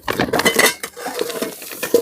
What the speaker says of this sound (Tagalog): Kaldero, kawali, takuri.